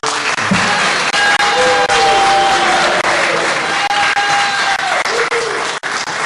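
An audience at a city council meeting applauds, with loud, sustained clapping filling the room throughout and a faint tone or chime ringing underneath.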